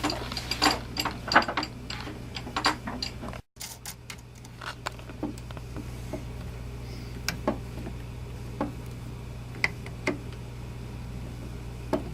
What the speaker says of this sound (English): And tightening with a screwdriver.